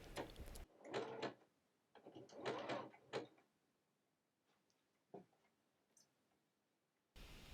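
A sewing machine running a couple of stitches through a towel at a corner while sewing a monogram appliqué, heard as two short, quiet mechanical whirring bursts followed by faint, sparse clicks and near-silence.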